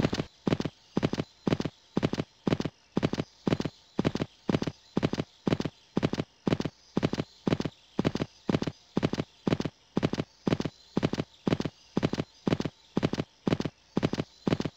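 Horse hooves in the PC riding game Riding Star on a parkour course, a steady rhythmic clip-clop of strides close by and evenly paced throughout, with no talking.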